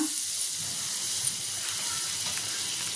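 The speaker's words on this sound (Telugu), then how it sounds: "ఇప్పుడు ప్యాన్ పెట్టుకున్న పావు వేపడానికి ఒక స్పూను బటర్ వేస్తున్న ప్యాన్ అంతా స్ప్రెడ్ చేద్దాం" Butter sizzles steadily in a hot pan for toasting pav, a bright continuous hiss that holds evenly throughout, close and fairly loud.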